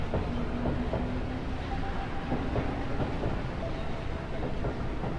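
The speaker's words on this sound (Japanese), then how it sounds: "そろそろ電車が来る時間よ。" A train rumbling past a station in the video game Tokimeki Memorial 3, a steady low clattering roar with faint rhythmic wheel clicks and brief tonal squeals, continuous and moderately loud.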